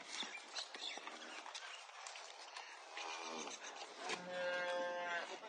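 A small dairy cow with her week-old calf on a farm, lowing in drawn-out moos amid people talking and other background noise at moderate distance.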